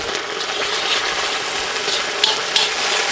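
Sauces such as vinegar, soy, red chilli and Schezwan stirred into chicken lollipops in a hot pan, a close, continuous sizzle with scraping spoon strokes and a couple of sharper clinks.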